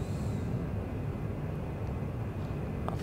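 The jet engine of an AJS 37 Viggen in a flight simulator game is throttled up just below afterburner, giving a steady, moderately loud broadband roar with no talking.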